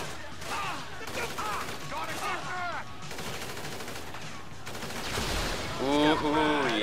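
Gunfire in the video game Grand Theft Auto V crackles in rapid bursts of shots while voices shout and talk over the action.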